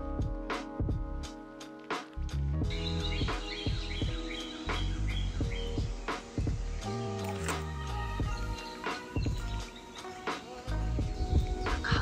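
An apapane bird calls in a Hawaiian forest along the Kipukapuaulu trail in Volcanoes National Park, Big Island. It gives a series of sharp chirps, clicks and short whistled phrases, fairly close and lively, over steady background forest sound.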